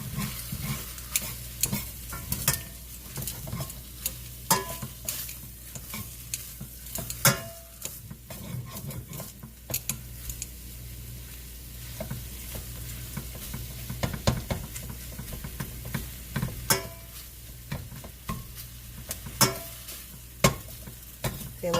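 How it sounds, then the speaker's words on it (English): Beef sizzling in a pan over medium-high heat while being stirred and turned, with a steady frying hiss and frequent scraping and clacking of the utensil against the pan. "keep cooking your beef and turning it, making sure that it gets cooked on evenly all over"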